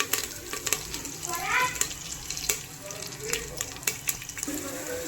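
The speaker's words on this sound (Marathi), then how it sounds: "तेल गरम झालं की जिरी आणि मोहरीचा फोडणी दिली ह्याच्यामध्ये घालते कढीपत्ता" Curry leaves dropped into hot oil in a pressure cooker with cumin and mustard seed tempering crackle and sizzle up close, with sharp pops and spattering over a steady fry.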